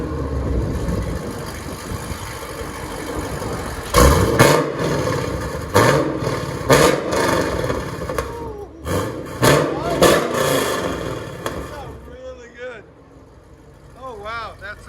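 A 2010 Chevy Camaro SS V8 with a Corsa exhaust and mufflers revs in sharp bursts, loud and close, dropping back to a rumbling idle, with people talking over and between the revs.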